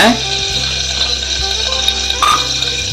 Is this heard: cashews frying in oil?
yes